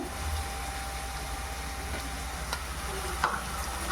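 Ginger and garlic paste fry with cooked onion paste in a pan, a soft steady sizzle close by with a few faint stirring clicks and no talk.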